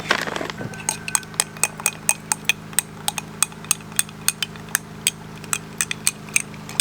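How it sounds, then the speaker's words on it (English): A utensil stirs soap-making ingredients in a dish, giving steady, evenly spaced clinks about three per second that stay close and clear with no voices. "Stir this up."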